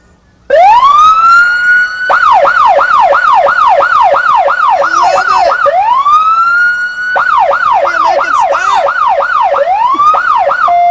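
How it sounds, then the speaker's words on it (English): A police car siren blares very loud and close, first in a long rising wail, then switching into rapid repeating yelp cycles, briefly dropping back to a wail before resuming the fast yelp. "you just hit that one of those whales, yelp, and plug your ears"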